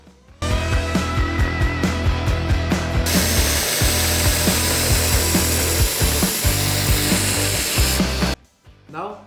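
Power grinder shaping the handle scales of a full-tang chef knife fitted with carbon pins, a loud sustained whine with rhythmic pulsing bursts as the workpiece is pressed, cutting off near the end.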